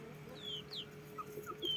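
A tall backyard chicken makes soft, scattered clucks, close and faint, with a few short higher chirps from other fowl around it.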